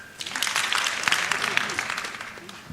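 A crowd at a youth summit ceremony claps together on cue, a dense burst of close applause sustained for a couple of seconds with faint voices underneath.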